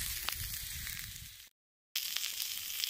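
New Zealand lamb sizzling on the cooking plate of a dry-stack single brick box rocket stove, a soft steady crackling hiss with a brief gap of silence midway.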